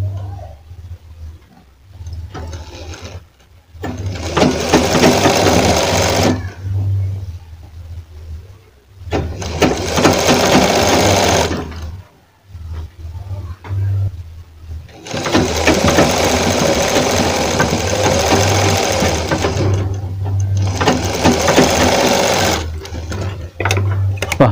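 A sewing machine stitches a fabric frill in long, loud, steady whirring runs, close up, pausing several times between bursts.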